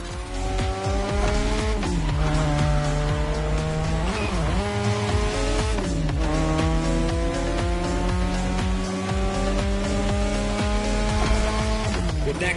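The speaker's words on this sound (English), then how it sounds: "You gotta drift through these, Shingo." Car drifting through sharp turns in The Crew Motorfest racing game, with a steady loud engine roar, shifting revs and sustained tire squeal throughout, continuous with no pauses.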